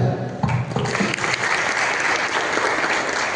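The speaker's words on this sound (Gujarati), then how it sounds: "ફરી એક વખત જોરદાર તાળીઓ સાથે યશ માંડવિયાને આપણે વધાવી દઈએ" An audience applauds loudly and continuously for speaker Yash Mandavi after a patriotic speech. The dense, sustained clapping of a large crowd fills the whole moment.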